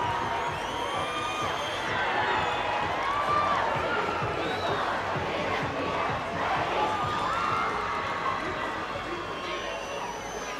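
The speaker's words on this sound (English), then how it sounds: "And the crowd does indeed go wild" High-school rugby crowd at a Middelburg schools match roaring and cheering after a try, a sustained loud wash of shouts and whoops with a commentator talking over it.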